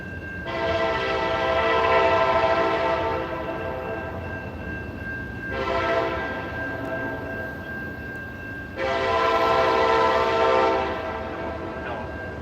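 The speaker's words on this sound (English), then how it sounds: "We did hear a horn." A train horn sounds three long blasts outdoors, loud and fairly near, the middle blast shorter than the others, with faint background noise between them.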